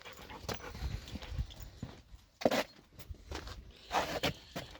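A dog pants and shuffles about nearby in a garage or workshop setting, with quick breathy pants, soft movement rustles and a couple of sharper bursts, all fairly close and moderately loud.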